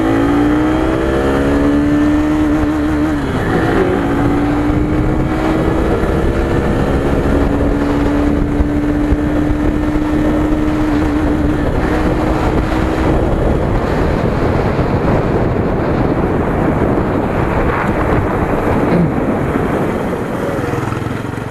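A Hero Glamour BS6 motorcycle pulling away in first gear, its engine tone climbing steadily under heavy, constant wind buffeting on the microphone.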